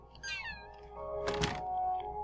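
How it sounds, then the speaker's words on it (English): A cat meows twice, faint and distant, in the horror video game The Evil Within, over a dull background hum and one soft thunk in the middle. "I just heard a fucking cat again."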